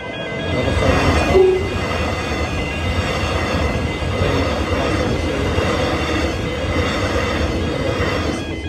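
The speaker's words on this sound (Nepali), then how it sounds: "ट्रेन क्रस नभएसम्म हामीहरूले गाडीले पनि पहिरो यात्रीले पनि बाटो कुर्नु पर्नेछ" A train rolls past a level crossing while road traffic and pedestrians wait at the closed gate, its steady rumble and wheel noise filling the whole stretch without a break, loud and close.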